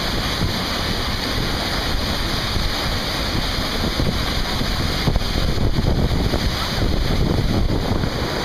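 Constant heavy roar of the wide Kulen waterfall, about 15 meters high with strong October flow, a dense unbroken rush of water with some wind buffeting, no talk.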